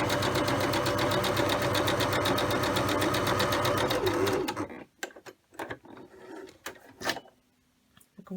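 A Husqvarna Emerald 118 sewing machine stitching polyester voile runs loud and steady with a fast, even mechanical hum and clatter for about four seconds, then stops, leaving intermittent clicks and handling knocks.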